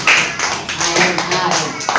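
Children clap their hands in an indoor class or gathering, a loose run of taps with an adult voice talking over and between the claps.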